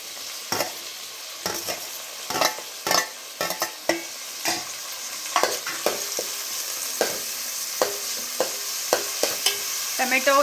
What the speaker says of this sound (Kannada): ಈರುಳ್ಳಿನ ಚೆನ್ನಾಗಿ ಫ್ರೈ ಮಾಡ್ಕೊಂಬಿಡೋಣ